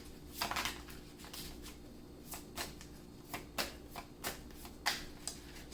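Tarot cards being shuffled at close range, a series of short crisp riffling bursts repeating at an uneven rhythm over a quiet low hum, with no talking.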